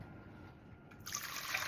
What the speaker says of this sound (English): 2 cups of warm water.